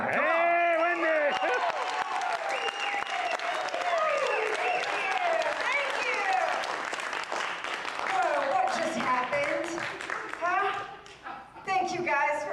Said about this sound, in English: clap your hands and scream as loud as you can for Wendy Salazar